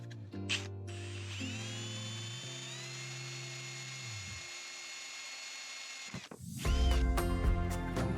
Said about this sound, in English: At this point, I'm kind of committed once I drill this first hole.